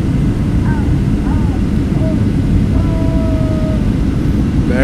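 Aboard a Delta Airlines airliner approaching to land at Tegucigalpa, steady broadband cabin roar fills the whole stretch. Faint tonal chimes or whines sit on top of it, and soft voices murmur beneath.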